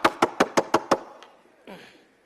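Six quick, sharp knocks rap on a door in an even rhythm, close and loud, followed by a faint single tap and a brief soft rustle before silence.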